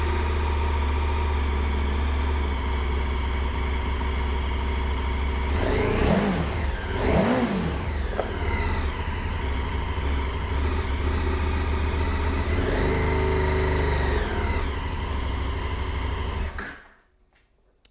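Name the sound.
stock exhaust of 2022 KTM 1290 Super Adventure Sport motorcycle revving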